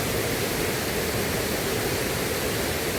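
Dense, steady rushing roar of water at the Chinna Suruli falls, a broad unbroken hiss from close by, with no voices.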